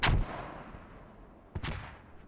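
Mortar rounds fire and land in a multiplayer war video game match, two heavy booming blasts about 1.5 seconds apart, each with a rumbling decay, the first louder and nearer.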